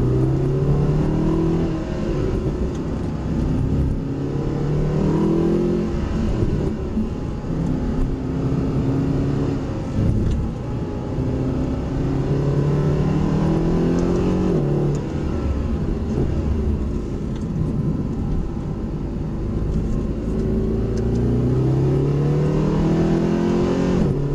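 Mercedes SLS AMG on a race track, engine loud and close, revving up through the gears again and again in rising sweeps as it accelerates hard, holding a sustained aggressive roar throughout.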